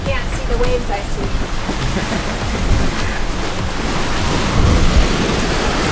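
Steady roar of rough ocean waves and wind washing against a sailboat, with constant surging noise and occasional louder swells, a voice faintly audible beneath it.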